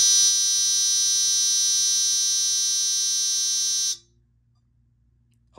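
Dover elevator buzzer sounding in nudge mode: a loud, steady, harsh electric buzz held for about four seconds, then cutting off abruptly to near silence, with no talking.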